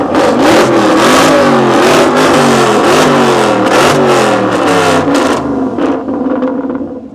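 A forced-induction supercar engine at a supercar show revs hard in repeated loud climbing surges, then drops off into a crackling burble as it fades.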